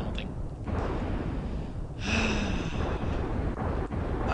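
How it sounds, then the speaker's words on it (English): A giant boss explosion in Secret of Evermore bursts as a loud, broad noisy rumble with a breathy, hissing texture, swelling again partway through and sustaining to the end. "this is a giant explosion"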